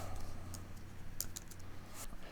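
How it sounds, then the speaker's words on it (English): Fingers tap on a computer keyboard while entering a CAD command, giving a few quiet, scattered key clicks over a low steady hum. "by typing the E, enter"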